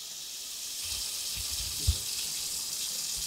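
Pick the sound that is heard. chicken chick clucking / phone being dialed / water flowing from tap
water flowing from tap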